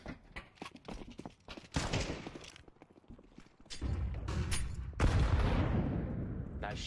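Gunfire in Counter-Strike 2 during a competitive round: scattered sharp shots and bursts alongside footsteps, loudest over the last few seconds, with a voice talking briefly in between.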